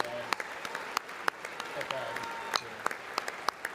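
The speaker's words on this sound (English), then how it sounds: "They're clapping right in the microphone." Clapping right into a live microphone during a joint presidential address, sharp close claps in an irregular rhythm standing out above a softer background of crowd applause, with people talking over it.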